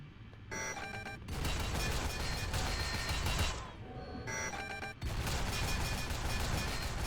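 Three turrets firing in Roblox Pressure, loud rapid bursts of gunfire that cut in and out in blocks, with brief quieter gaps between volleys and a sharp restart near the end.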